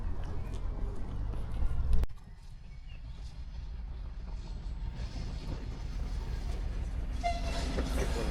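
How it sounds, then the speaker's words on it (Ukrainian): Kolomyia–Dilove commuter train arriving at a platform in the Carpathians, a loud low rumble with a sharp horn-like burst early on, then steady rolling rail noise and brief distant voices. "міський поїзд Коломия Ділове. Прибуває на першу колію."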